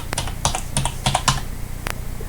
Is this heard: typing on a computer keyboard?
yes